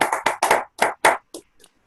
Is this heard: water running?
no